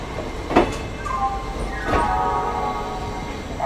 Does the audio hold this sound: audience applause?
no